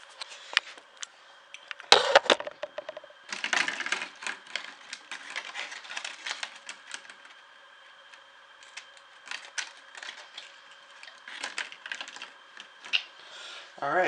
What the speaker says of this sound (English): you pinch the clothespin and you put the paper in